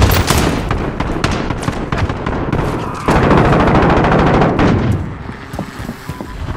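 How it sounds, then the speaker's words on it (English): Call of Duty Modern Warfare cluster strike, a dense rapid barrage of explosions and gunfire cracks, loud and continuous, thinning out toward the end. "Enemy cluster strike incoming."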